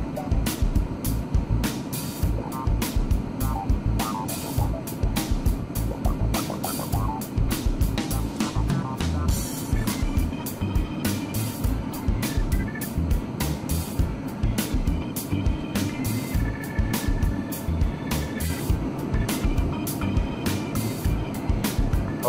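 A car engine revs up to around 2,000 rpm while the automotive air conditioning blower runs at full fan speed, giving a steady loud rumble with rattling clicks throughout and no talk.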